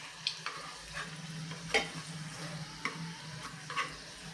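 Vegetable cutlets shallow frying in a pan, a soft steady sizzle with scattered light clicks and taps, fairly quiet and without talk.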